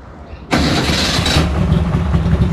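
A car engine starts indoors at a used-car dealership, catching abruptly after a moment of quiet without any throttle, then settling straight into a steady, loud idle.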